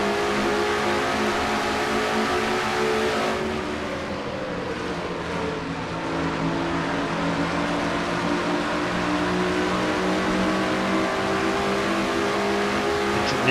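An onboard engine drone from car number 21, a Citgo Ford in a NASCAR racing video game, stays loud and steady with a brief dip in pitch as the car lifts, then resumes at full speed.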